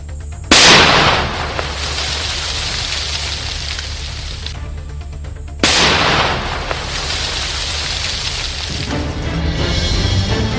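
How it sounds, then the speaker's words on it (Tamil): Two sharp, heavy bomb blasts about five seconds apart, set off in a pit dug in dense forest, each followed by a long roaring rumble, loud and close. "குழி தோண்டி உள்ளே வைத்து வெடிக்கச் செய்தனர்"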